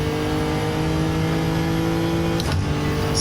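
Toyota Crown Athlete engine held on throttle, a steady loud drone with strong engine harmonics filling the whole stretch and a brief shift or change in tone near the end.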